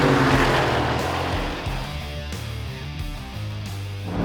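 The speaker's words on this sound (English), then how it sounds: "just listen to the sound of the engine. It's absolutely gorgeous." A Mercedes-AMG performance car engine revs loudly and close, with a strong burst that eases into a rising and falling drone marked by several throttle blips, and no talking.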